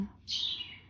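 A pet bird indoors gives one short, sharp chirp up close, loud against a quiet room.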